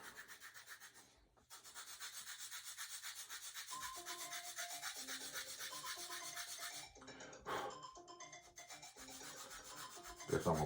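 Steady rasping of sandpaper on a balsa wood part for a 1/4 scale Cub model aircraft, continuous close strokes with a brief pause and a few sharper scrapes near the end.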